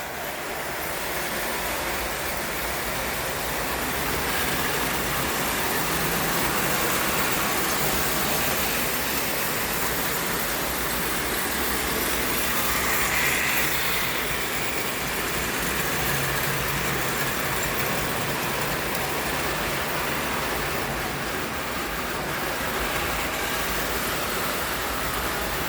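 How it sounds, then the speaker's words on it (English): A heavy little model switcher locomotive runs on a layout, making a continuous, steady whirring rumble close by that holds level without a break for the whole stretch. "That little switcher locomotive does a really great job, and it's really heavy."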